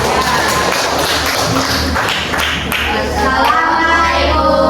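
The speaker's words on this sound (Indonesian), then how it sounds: "Beri tepuk tangan untuk kelompok 5" A classroom group claps for group 5 after its presentation. The clapping is loud, dense and close, with faint children's voices mixed in, and it runs for several seconds.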